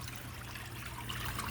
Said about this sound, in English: The flow that's coming out is good flow.